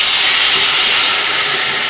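Cold water hits a hot pan of fried spices for a dalia khichuri, giving a steady, loud, broad steam hiss that holds evenly for about two seconds.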